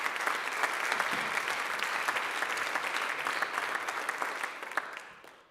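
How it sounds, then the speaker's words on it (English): Full, dense audience applause at an organization's annual meeting, sustained for several seconds with a few sharper claps standing out, then tapering off near the end. "So first of all, I want to give everybody a hand of applause."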